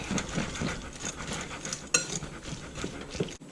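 Chopped raw shrimp and an egg being mixed together in a bowl, with a utensil scraping and clinking against the dish in a quick, close rhythm.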